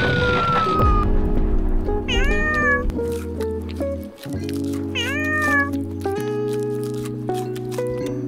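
Several house cats meow repeatedly, with rising and falling cries in a few bursts over a steady background hum, fairly close and clear, with no talking.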